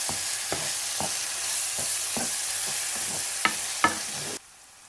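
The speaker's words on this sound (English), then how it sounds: "Then introduce 2 large chopped onions or 3 medium ones. Fry for 5 minutes until they are nearly translucent." Chopped onions fry in a pot with a strong, even sizzle, broken by regular spoon scrapes about every half second and a couple of sharper knocks. The sizzle stops abruptly before the end, and there is no talking.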